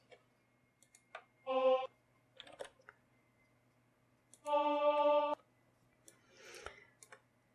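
Keys click sparsely while notes are entered into Harmony Assistant music notation software, with two sustained tonal note playbacks sounding in between the isolated taps.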